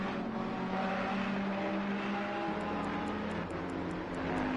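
Race cars in the sim racing game Assetto Corsa Competizione at the Kyalami circuit drone past on track, engine notes shifting pitch as they go by, with steady engine hum and a few clicking ticks near the end.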